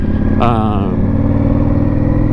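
An Indian Scout Bobber motorcycle rides along twisty roads in Puerto Rico, its engine giving a steady, loud, low rumble throughout, with a brief rising rev near the start.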